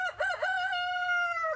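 A farm rooster gives one clear, fairly close cock-a-doodle-doo, with a wavering start and a long sustained final note lasting about a second and a half.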